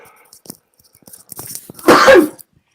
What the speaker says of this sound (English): I'm going to sneeze. Excuse me.